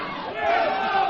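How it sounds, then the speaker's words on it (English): Live studio crowd at a Halloween radio show yelling and cheering in a frenzy, a dense, loud wall of whoops and shouts sustained throughout. "The crowd is in a frenzy."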